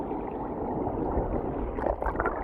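Glacial meltwater of the Neelganga river flowing along the Roopkund–Bedni Bugyal trek, a steady close rushing and gurgling wash that holds even throughout, with slightly brighter splashy bursts near the end.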